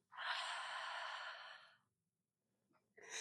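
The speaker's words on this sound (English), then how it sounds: "Open the mouth, breathe out." One long, breathy exhale through an open mouth during a yoga flow, close and soft, fading out into quiet before a short breath at the end.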